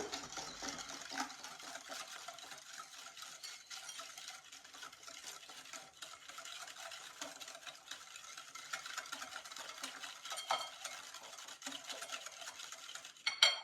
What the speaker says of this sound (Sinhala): බිත්තරේ දාගෙන හොඳට mix කරගන්න ඕන.